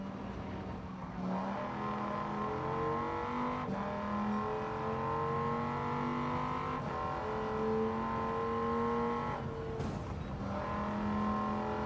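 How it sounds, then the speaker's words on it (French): Race car engines in Gran Turismo 7 rev up and down through repeated gear shifts, rising whines climbing and dropping in steady cycles, loud and continuous with no talk. "c'est vraiment super bien fait les bruits des bagnoles hein, dans le jeu"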